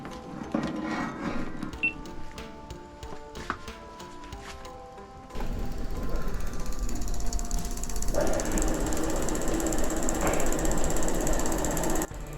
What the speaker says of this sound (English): That ticking noise is what you're hearing.